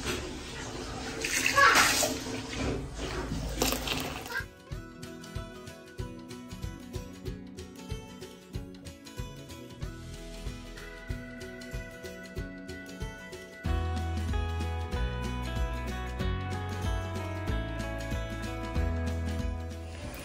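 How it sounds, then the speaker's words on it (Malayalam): Water splashes as a cooking vessel used for ground coconut, shallot and cumin paste is rinsed and poured out, a short burst of running water followed by quieter clinks and drips. "അപ്പോൾ നമ്മളത് കഴുകി ഒഴിച്ചു കേട്ടോ"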